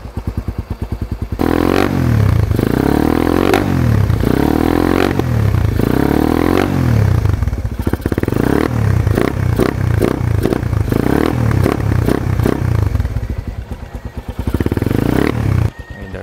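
A carbureted Suzuki Raider motorcycle engine is revved hard in repeated bursts, each throttle blip rising and falling close by, with some mechanical clatter between revs and no talking.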